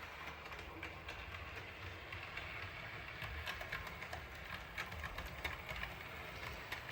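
A model train runs steadily along the track with a low rumble and faint rhythmic clicking, quiet and continuous.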